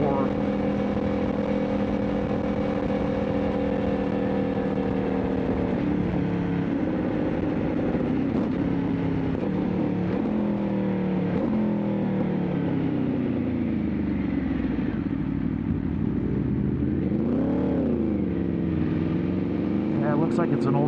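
An older V4 motorcycle engine with no baffle in the exhaust revs loud and close, its pitch sweeping up and down repeatedly, with a voice talking over it.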